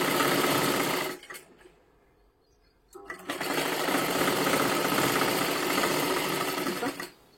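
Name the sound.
sewing machine stitching fabric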